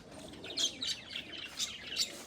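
Pigeons let out of their loft chirp and flutter faintly at a distance, a few short calls and wing bursts spaced across a quiet background.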